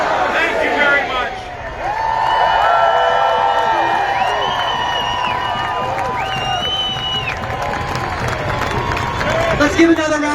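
Large rally crowd in Chicago cheering and applauding for Governor J.B. Pritzker and Congresswoman Delia Ramirez, loud and sustained, with whoops and shouts over steady clapping and amplified voices mixed in.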